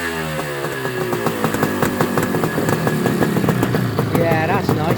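A Suzuki GT250C two-stroke motorcycle engine revs loudly and close, its buzzing tone rising and falling with strong airbox intake noise, while a voice talks over it.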